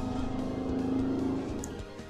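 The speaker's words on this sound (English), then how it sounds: "There's a car outside." A car driving past outside, a steady low engine rumble and tire hum that holds for a moment and then eases off as it moves away, heard indoors and fairly faint.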